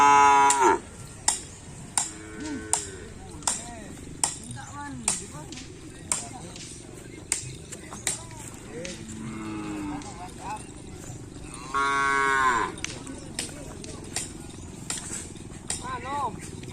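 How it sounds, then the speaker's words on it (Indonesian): Racing bulls and a small calf at a kerapan sapi bull-racing practice field in Asemanis moo repeatedly, mixed with regular sharp cracking knocks and people talking in the background. "Ini ada juga sapi kecil teman-teman."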